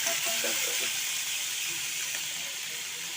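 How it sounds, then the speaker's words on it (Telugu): Boiled eggs fry in a little oil for an egg biryani, giving a steady, close sizzling hiss that fades slightly over a few seconds. "ఫస్ట్ కొద్దిగా ఆయిల్ వేసుకొని ఈ గుడ్లని ఇట్లా వేసుకోవాలి."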